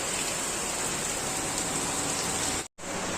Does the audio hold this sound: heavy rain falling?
yes